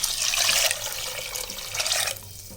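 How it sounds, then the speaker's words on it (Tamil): Water pours steadily into a metal pressure cooker with rice for tamarind rice, a continuous splashing rush that shifts in tone as the vessel fills, then tapers off. "இப்போ இன்னும் 3 டம்ளர் தண்ணி நான் இதில் விட்டுடுறேன்."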